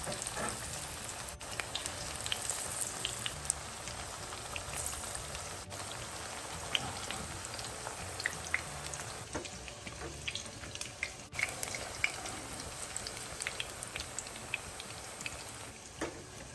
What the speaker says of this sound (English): we're gonna add more breadfruit to the oil